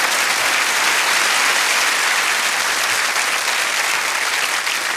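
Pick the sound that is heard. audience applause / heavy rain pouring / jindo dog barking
audience applause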